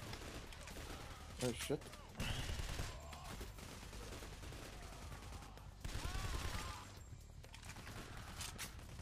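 Gunfire in Payday: The Heist from an enemy sniper on a roof, sharp shots and bursts amid busy game noise, with a player briefly exclaiming.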